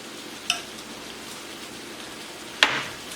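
A teaspoon of butter sizzles in a hot pan for a chickpea coconut curry, a soft steady hiss broken by two sharp crackling pops, close and with no talk.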